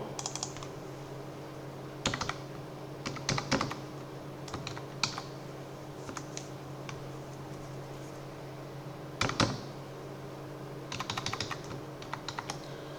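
Someone types in short bursts on a computer keyboard, clustered clicks and single taps separated by pauses against a faint steady hum.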